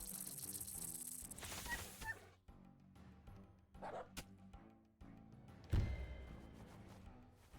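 Game sounds of a dog unit attacking in the strategy game Wargroove 2: sharp barks and yips with thuds and impact hits, fairly quiet, in short bursts over a musical backdrop, with no one talking.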